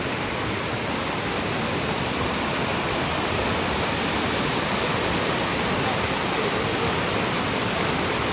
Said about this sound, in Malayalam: ഇവിടെ ഒരിടത്ത് വന്നപ്പോൾ പുഴയിലെ വെള്ളം ഇങ്ങനെ കുത്തി ഒഴുകുന്നതാണ്.